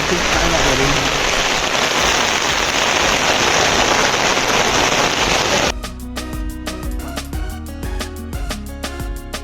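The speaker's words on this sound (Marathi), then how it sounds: "अशा प्रकारे आता मोठा पाऊस सुरू झालेला आहे." Heavy rain at Rangana Fort pours down in a loud, dense hiss for several seconds, then gives way to a different section with rhythmic percussive beats.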